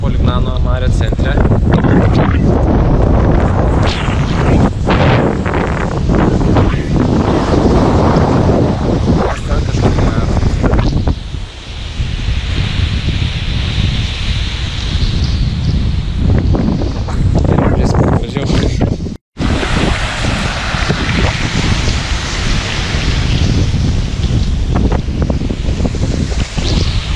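Strong seaside wind at Polignano a Mare roars loudly and continuously, buffeting the microphone with heavy rumbling gusts and a brief dropout, while surf may be present underneath and voices come through at times.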